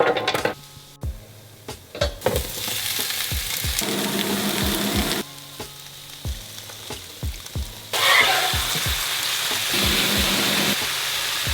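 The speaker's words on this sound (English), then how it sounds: "Now I'm just gonna cook these along with some sauteed onions and garlic." Tofu pieces sauté with onions and garlic in a hot pan for a vegan meal, a steady close sizzle broken by repeated sharp scrapes and taps of stirring, louder in bursts and with no talking.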